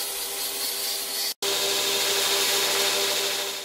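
Steel dart tip sharpened on a grinder, a steady close abrasive hiss with a faint tonal whine that breaks off briefly and then carries on unbroken.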